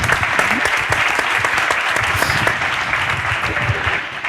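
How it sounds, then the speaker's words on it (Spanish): An audience at a Spanish-language conference on artificial intelligence and the economy claps steadily for about four seconds, a dense, even wash of hands with no voices on top. "Un aplauso, por favor."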